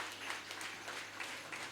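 Applause from a conference audience for a speaker, a soft, dense patter of many hands that is steady and fairly distant, with no voices over it.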